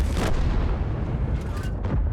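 A tank cannon booms in an armored vehicle video game, one heavy, loud, close blast with a rumbling tail and a second, lighter thump after it.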